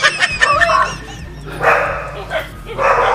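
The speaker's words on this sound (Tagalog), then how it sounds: "Ang mga aso." Several dogs barking and yipping in a rural hillside settlement, rapid close barks at first, then further bursts with people talking over them.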